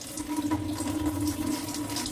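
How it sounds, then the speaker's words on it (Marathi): Water pours steadily in a continuous splashing stream, like liquid being tipped out of a container into a sink, with no talking; it is soaking water poured off rice batter. "व्यवस्थित हळूहळू असं आपल्याला हे पाणी ओतून घ्यायचं आहे"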